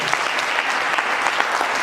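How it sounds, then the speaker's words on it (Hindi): An audience claps loudly and steadily at a network marketing training event in Haridwar, a dense, even burst of applause with no voices above it. "जोरदार तालियां बजाओ।"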